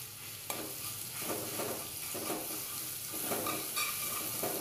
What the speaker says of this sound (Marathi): जिरे टाकून घेत आहे, हिंग, गॅसची फ्लेम बारीक केलेली आहे।